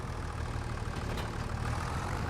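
A tractor engine running in Farming Simulator 25, a steady low, heavy rumble with a dense even drone and no breaks, close and continuous.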